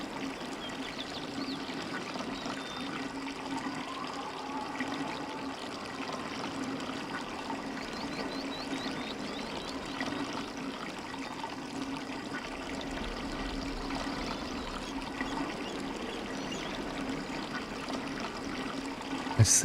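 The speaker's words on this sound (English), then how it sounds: "And that sends the water down to that tree." Water pours steadily in the Riven video game, a continuous trickling stream flowing down toward a tree, even and moderately close throughout with no talking.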